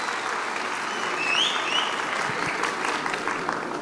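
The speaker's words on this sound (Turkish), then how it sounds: "Arkadaşıma bir alkış." Applause from a seated audience at a book-fair talk in Aksaray, an even, sustained clatter of clapping across the whole stretch with a faint whistle rising briefly in the middle.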